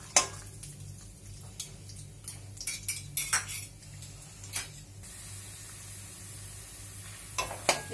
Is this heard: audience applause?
no